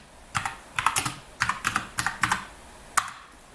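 Typing on a computer keyboard, about a dozen crisp key clicks in quick irregular clusters with a short pause before a final single keystroke, close and clear with no talking.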